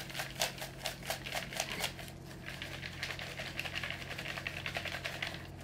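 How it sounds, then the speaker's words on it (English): Birthday mail envelopes are shaken in a basket lined with plastic, making a fast, rhythmic papery rattle and clatter in close bursts, then a denser, steadier shuffling. "let me see if I can shake them all up without dropping"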